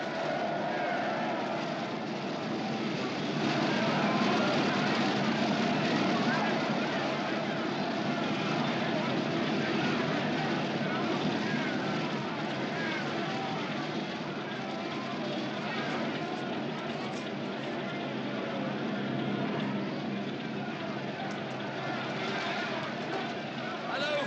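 An old propeller airplane engine drones loud and continuous for the whole stretch, a dense, unbroken roar with a slight surge early on, heard in a 1973 film.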